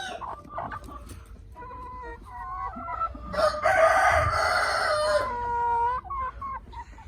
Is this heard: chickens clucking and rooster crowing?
yes